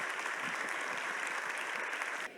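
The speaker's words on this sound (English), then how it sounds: "please join me in giving not just a round of applause, but a round of thanks to Vanita for her leadership" An audience at a conference plenary session applauds with dense, sustained clapping from a large crowd at an even level, then cuts off abruptly just before the end.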